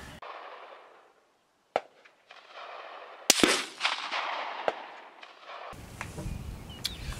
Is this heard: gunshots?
yes